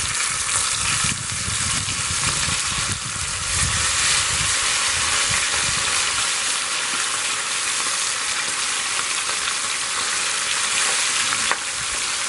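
Breaded fish sizzles loudly and continuously in hot oil in an ordinary pan by a river, a dense crackling hiss that stays steady throughout, with faint bubbling and clatter early on.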